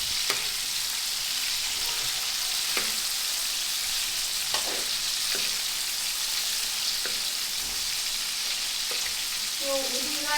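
Garlic frying in a pool of oil in a pan, a dense continuous sizzle throughout with occasional utensil clicks and faint voices near the end.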